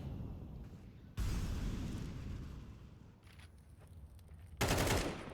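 Gunfire in a competitive online shooter match, two loud bursts of shots a few seconds apart, close and sharp with a quieter stretch between them.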